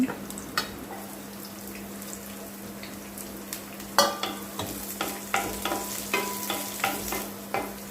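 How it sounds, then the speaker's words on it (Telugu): Onions frying in a pan, a steady close sizzle at first, then repeated spatula stirs and scrapes with louder bursts of sizzling from about halfway on. "ఉల్లిపాయలు కొంచెం వేగినాయి"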